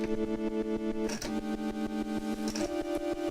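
An electric guitar riff through distortion, chopped into rapid rhythmic pulses by a Koma Elektronik BD101 gate pedal, with the pulses speeding up over time; loud and close, no talking.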